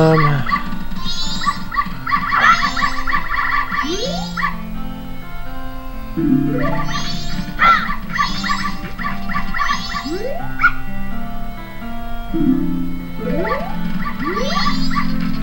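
Repeated yipping and barking from several small dogs in the Majora's Mask dog race video game, a lively, loud, continuous chorus with whimpers, alone without talk.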